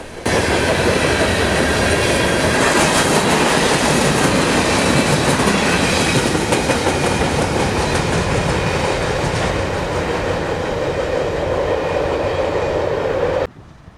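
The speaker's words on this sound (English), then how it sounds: "tunnel motor leads an SD60 on an eastbound freight at dusk" A loud eastbound freight train led by diesel locomotives, a tunnel motor and an SD60, rumbles past up close at dusk, wheels clattering rhythmically over the rails with a constant heavy roar that cuts off abruptly.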